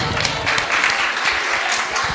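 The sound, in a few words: applause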